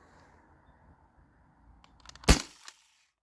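A modified T4E HDB68 marker fires a single sharp, loud crack of an aluminum-ball shot after a quiet stretch of faint background, with a brief rattle just before and a short tail after.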